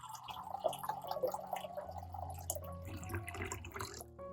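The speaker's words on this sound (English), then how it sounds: "Add clean water to the bowl." Clean water poured into a large bowl, a soft, faint gurgling stream with light dripping and splashing that tapers off and stops at the end.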